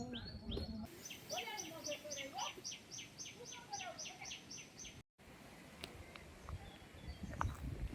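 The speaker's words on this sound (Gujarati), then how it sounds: "અને જો પક્ષીઓ બોલે છે તો કેવું સરસ લાગે છે." Birds sing beside a mostly dry forest river, a clear repeated series of bright chirping notes close by, followed by scattered calls over a soft outdoor background.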